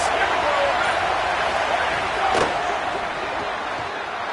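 Stadium crowd noise from a Madden/NCAA football video game, a broad steady roar before a big third down, with a commentator talking over it and a sharp thud partway through.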